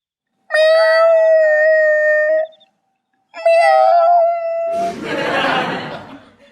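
A voice imitates a cat with two long, drawn-out meows, close and clear, followed by a burst of laughter.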